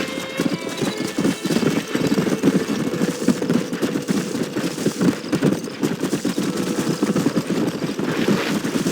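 A horse gallops in Red Dead Redemption 2, a loud, close, continuous run of rapid hoofbeats with faint background game noise and no talk.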